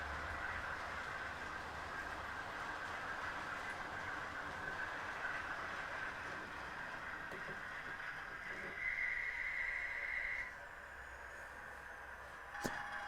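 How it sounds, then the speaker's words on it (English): Model railway Class 50 locomotive hauling an air-braked coaching train up a helix, a faint continuous whirring hum with soft rail clatter and a brief high whine partway through. "here we see one of my Class 50s putting a train up the helix"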